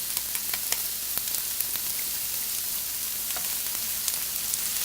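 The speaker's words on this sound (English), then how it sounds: "I'm going to saute this for about 5 minutes." Finely minced ginger and garlic sauté in a pan over medium-high heat for Thai red curry, giving a steady, close sizzle with scattered small pops and crackles and no talk.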